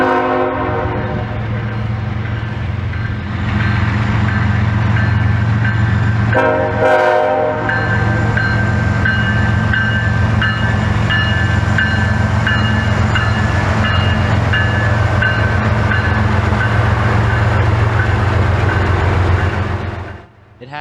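CSX freight train on the Boston Line in West Springfield, Massachusetts, led by GE GEVO locomotives (ET44AH, ES40DC, ES44AH rear DPU), rumbling past loud and close with a steady engine drone, a brief horn blast and continuous wheel noise.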